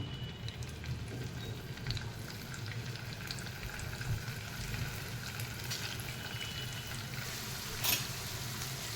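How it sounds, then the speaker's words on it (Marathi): Paneer pieces shallow-fry in hot ghee for a fasting curry, a soft continuous sizzle and bubbling heard fairly quietly and close, without talk. "आपलं तूप गरम झालेलं आहे यामध्ये मी पनीरचे तुकडे टाकते"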